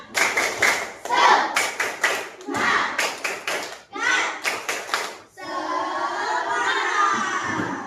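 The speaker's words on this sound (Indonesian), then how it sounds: "Tepuk semangat." A grade 5 class claps a rhythmic spirit clap in a classroom, with sharp unison claps in quick patterned bursts separated by short pauses, then breaking into loud shouting and cheering from the children.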